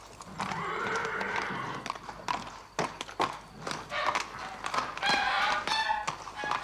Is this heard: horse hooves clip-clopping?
yes